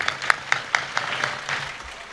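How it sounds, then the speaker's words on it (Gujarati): Audience at a Gujarati folk music and storytelling programme applauds, with several sharp, loud individual claps standing out near the start before settling into softer, more scattered clapping. "એકવાર તાળીઓથી વધાવો મારા બાપ."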